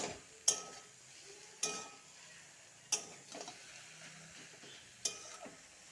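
Spoon stirring mustard paste and green chilli paste in a pan while making kochu pata paturi: four sharp scraping clicks at irregular intervals over a low, steady background hiss.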